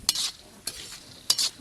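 Cashews and almonds frying in oil in a village kitchen, heard as three short bursts of sizzling and stirring spaced about half a second to a second apart, with quieter crackle between them.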